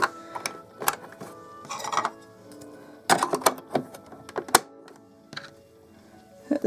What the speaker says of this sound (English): Put the bobbin back in.